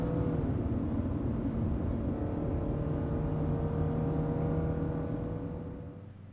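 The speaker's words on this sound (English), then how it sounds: "As Misyr rides in his car and heads to the GPM headquarters." Car engine in the video game Café Enchanté, a steady low hum of driving that holds evenly and then fades out near the end, with no voices.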